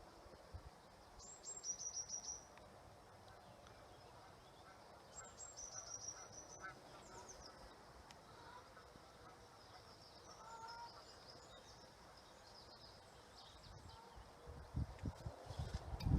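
Faint, distant birds call in two short bursts of high chirps over a quiet, hissing outdoor background, with occasional soft rustles.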